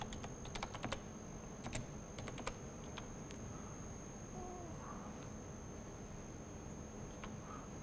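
Rapid keystrokes on a computer keyboard while writing Matlab code, a quick irregular clatter of clicks in short bursts, fairly close and moderately loud over a steady background hiss.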